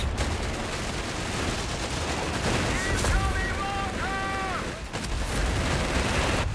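Steady automatic fire from the MP40 submachine gun rattles without pause through a Company of Heroes 3 battle, dense and loud, with a brief whining tone rising over the clatter midway.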